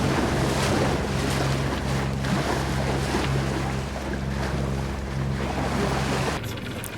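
A three-cylinder boat cruising at about six knots on the St. Lawrence, its steady engine drone under loud wind noise and rushing water, continuous and close.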